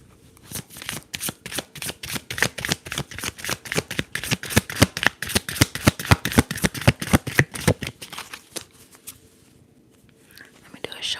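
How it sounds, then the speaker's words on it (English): Tarot cards being shuffled close up in a rapid run of crisp riffling snaps that builds in loudness, then stops, followed by a quiet soft whisper. "Let me do a shuffle."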